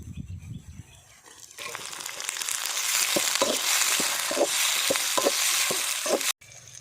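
Green chillies and tomato hit hot oil in a village-style pan for chicken liver gravy, bursting into a loud, steady sizzle with repeated stirring scrapes and knocks.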